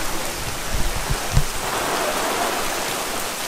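Rain falls steadily on an outdoor surface at a theme park, a continuous broadband patter with a few louder splashes and drips near the start.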